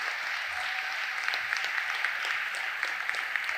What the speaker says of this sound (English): Please give him a round of applause for being here tonight